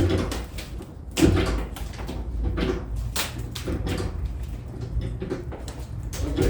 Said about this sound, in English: Creaking here and there.